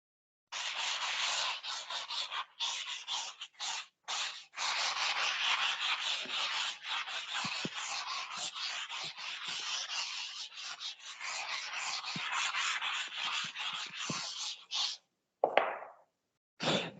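Rubbing a lecture board clean to erase it, a steady scratchy rubbing in quick back-and-forth strokes with short pauses, close and moderately loud, no talk.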